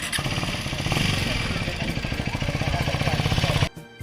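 Motorcycle ride with a steady mid-pitched engine drone and rhythmic pulsing, close and loud for nearly four seconds before cutting off abruptly, with a voice speaking over it.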